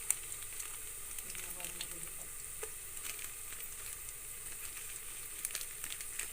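Onions sizzle faintly in hot oil as garam masala and biryani masala go in for a village biryani, a soft steady frying hiss with light stirring taps.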